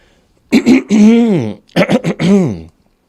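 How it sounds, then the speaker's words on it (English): A couple of harsh, voiced throat-clearing rasps up close, two bursts separated by a short pause. "let me clear my throat"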